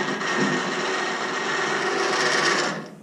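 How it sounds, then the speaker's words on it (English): A loud, steady rasp of a Wood-Mizer LT10 battery-powered portable sawmill biting through wood runs continuously for a few seconds, then tapers off at the end. "That's about the right speed for sawing."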